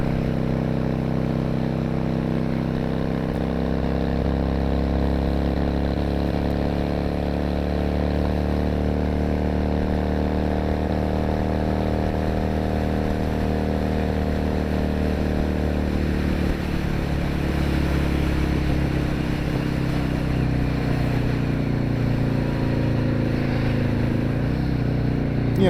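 A 2002 Yamaha XVS650 V-Star V-twin engine, with its number 1 cylinder cutting out, runs at a steady idle with a slight dip and rise in revs midway, continuous, loud and close.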